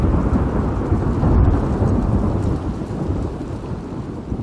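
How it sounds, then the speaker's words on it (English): Thunderstorm in the video game The Last of Us Part II, heavy rain pouring with deep continuous thunder rumbling underneath, loud and close, no talking. "Storm is very angry."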